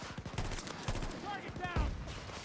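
Rapid bursts of light machine gun fire in a Battlefield shooter match, loud and close, with a dense rattling stream of shots mixed with other battlefield noise and a few short voice sounds.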